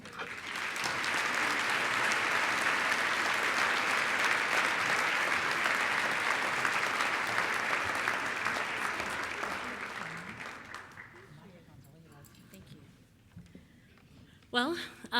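Sustained audience applause at the Acton Institute's 20th anniversary celebration welcoming Nicole Boone, a full dense clapping that holds steady for about ten seconds, then thins and fades to a few scattered claps.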